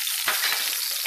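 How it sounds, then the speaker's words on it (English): Garlic frying in olive oil in a hot pan, a short burst of bright, close sizzling with faint stirring. "we're just going to put some olive oil in there, like that. I'm going to chuck that garlic in."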